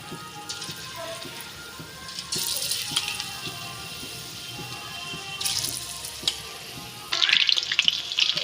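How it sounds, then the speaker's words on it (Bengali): Green jackfruit pieces frying in hot oil in a wok make a continuous sizzle that swells louder in bursts as pieces are added or stirred, rising sharply toward the end, with no speech. "দিয়ে আমি এগুলো এঁচোড়টা ভেজে নেব।"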